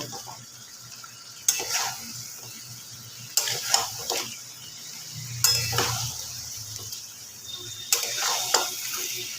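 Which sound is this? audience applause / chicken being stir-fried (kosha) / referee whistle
chicken being stir-fried (kosha)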